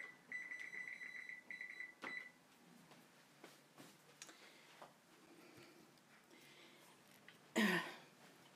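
An oven timer in a home kitchen is set for an apple pie, giving a steady run of short electronic beeps at the start and then a brief louder tone near the end, with faint kitchen handling noises between.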